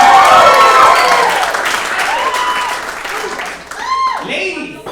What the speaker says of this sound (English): How about a round of applause for these lovely women out here today?